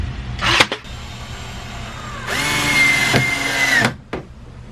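A power drill driving screws into wood whirs in short bursts, then runs in a longer, steady high-pitched whine before cutting off, with a brief final spurt.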